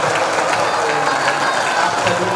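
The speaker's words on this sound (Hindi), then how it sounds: "एक बार जोरदार तालियां आप सभी का" A stage audience bursts into loud, continuous clapping after a short Hindi play performance, a dense wash of hands filling the room throughout.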